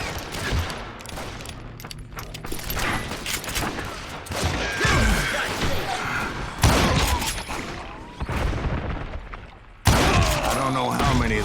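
Dense, loud gunfire from the Western shooter Call of Juarez: Gunslinger, with rapid overlapping shots and bursts that continue almost without pause, under game music and a brief shouted voice.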